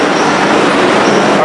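Inside a moving Barcelona metro carriage, a loud, steady rumbling roar of the train fills the space without break.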